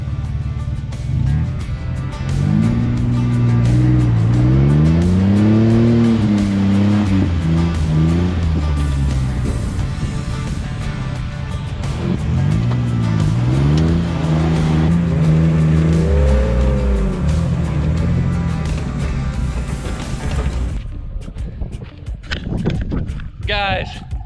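A Jeep's engine revs hard in reverse while it is towed out of deep mud on an off-road trail near the Mexico border, surging up and down in long loud pulls while people talk over it.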